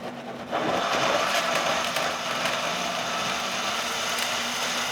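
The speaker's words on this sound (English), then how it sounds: "The Vitamix is already cranked up, powered up." A Vitamix blender grinds whole lemons and beets, starting after a brief quieter moment and then holding a loud, steady high-speed roar with a constant motor whine, up close.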